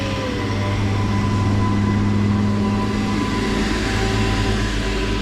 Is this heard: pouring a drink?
no